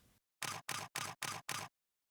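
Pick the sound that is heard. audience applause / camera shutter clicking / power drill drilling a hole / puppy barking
camera shutter clicking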